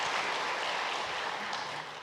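A church congregation applauds together for a couple of seconds, a soft, dense patter of many hands that thins slightly toward the end, with no voices over it.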